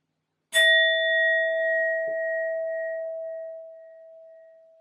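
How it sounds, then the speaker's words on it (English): A sound bowl is struck once and rings out with a pure, sustained tone and faint overtones. The note lingers and slowly fades over several seconds in an otherwise quiet room. "I'm first going to use my sound bowl to clear and set the energy."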